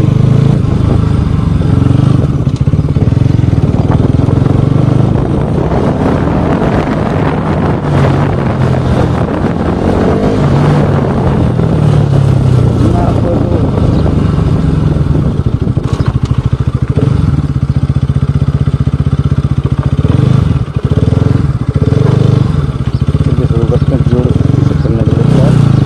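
A Bajaj Pulsar RS200 BS6 motorcycle accelerating hard, its engine note rising and falling through gears, loud and close with heavy wind buffeting the microphone the whole time.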